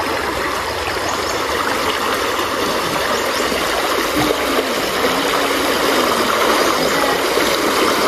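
A river in the rural Philippine countryside flows with a constant broadband rush. It is loud and steady throughout with no talking, and a faint low hum sits underneath.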